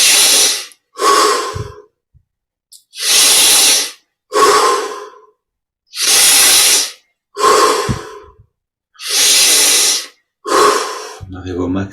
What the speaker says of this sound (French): On augmente l'amplitude des respirations.